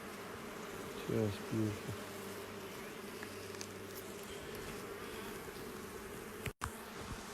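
Honey bees crawling on hive frames where honey is being capped, giving a steady soft buzzing hum throughout, with someone speaking briefly and a sharp handling thump near the end.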